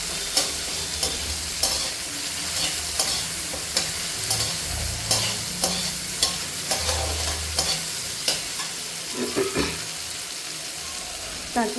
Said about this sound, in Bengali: আমি টমেটোটাকে একটু ভাজা ভাজা করে নিচ্ছি